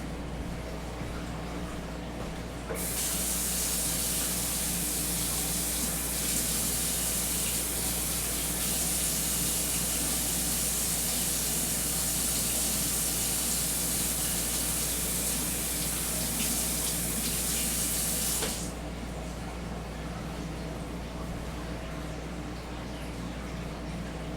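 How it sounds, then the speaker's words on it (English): Kitchen tap water running in a steady, loud gush while a knife is washed, starting abruptly and stopping after about fifteen seconds over a low background hum. "Now I'm gonna clean my knife."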